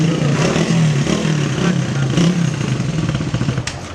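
A motorcycle ridden along a rural village track, its engine droning steadily and close with a low throbbing hum and rattling, while a voice talks briefly over it.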